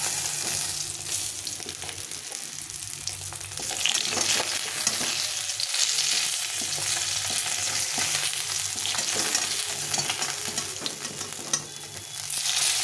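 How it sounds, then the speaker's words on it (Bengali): Fish fries in a pan of hot oil until reddish-brown, giving a loud, unbroken sizzle with scattered crackles and pops, no voices present. "মাছগুলো একটু ভালো করে ভেজে নিতে হয়"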